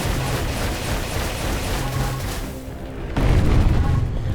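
Magic rod weapon in Amid Evil firing repeatedly amid combat, a steady crackling, rain-like wash of shots with tonal blips, thinning out briefly before a heavy booming impact near the end.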